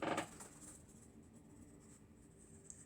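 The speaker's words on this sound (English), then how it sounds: "Hold on, I need to write this down. Hold on. Yes, I'm getting the pencil." A pencil scratches across paper while notes are being written, a soft, continuous scratching texture with a brief louder stroke at the start, quiet and close, with no talking.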